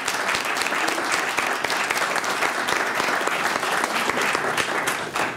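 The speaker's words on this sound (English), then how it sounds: "Let's give them all a round of applause" Steady round of audience applause, dense even clapping from a room full of people, sustained throughout at moderate loudness with no talking over it.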